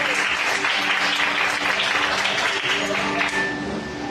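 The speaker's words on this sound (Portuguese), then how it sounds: "Você pode aplaudir ao Senhor nesta noite." A church congregation claps at an evening worship service, the applause a steady, dense patter that fills the whole stretch without a break.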